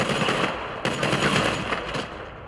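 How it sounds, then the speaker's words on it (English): Rapid bursts of gunfire crackle continuously, loud and dense, like automatic weapons firing in a Grand Theft Auto V battle, with no voices. "you hear that gunshot, you gotta look around"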